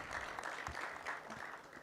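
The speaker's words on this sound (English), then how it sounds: "Kindly give a round of applause to Mr. Kagwa." An audience at a high-level forum applauds a speaker, a dense, steady wash of many hands clapping at moderate distance for about two seconds, with no voices over it.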